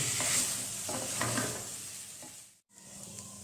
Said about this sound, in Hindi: और अच्छी तरह फ्राई कर लेंगे अदरक और लहसुन के पेस्ट को